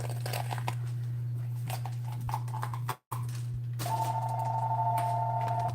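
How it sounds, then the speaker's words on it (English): A phone rings in a home kitchen while chicken soup cooks, a steady electronic tone starting partway through over a constant low hum and faint background clatter. "That's my phone. Probably a telemarketer."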